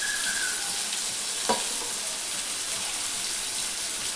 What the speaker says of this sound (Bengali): এখন এটাকে সামান্য নাড়াচাড়া করবো।